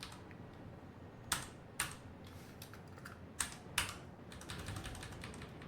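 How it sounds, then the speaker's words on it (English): An old, worn computer keyboard is typed on with sharp, loud clacks, some keys struck hard, over steady background hiss, with denser rapid typing at the end. "Man, my keyboard must be really crap, broken, old"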